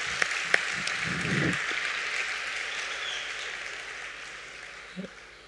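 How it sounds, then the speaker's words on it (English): Sparse, fading applause from an audience at an entrepreneurship business session, a soft wash of clapping that tapers off over several seconds, with a few louder isolated claps and a brief knock near the end. "Let's give a big round of applause to Murugavel."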